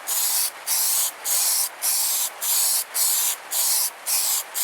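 Repeated spray-can bursts of chrome paint, a steady hiss broken by brief pauses roughly every half second, close and loud.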